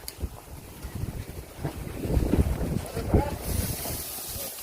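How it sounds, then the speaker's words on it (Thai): Strong wind blows outdoors, buffeting the microphone in rough gusts that swell toward the middle, with a voice speaking under the rumble. "ลมแรงมากเลย ลมแรงมากเลยค่ะ"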